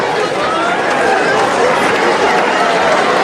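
An audience at a public address claps loudly and densely, a sustained, even burst of applause lasting a few seconds.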